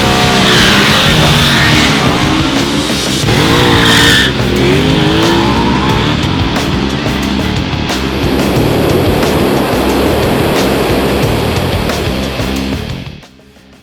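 Ducati Diavel Cromo and Yamaha VMAX motorcycles run at a drag strip, with loud engines roaring and a sharp tire-screech burst near the start before the noise fades out.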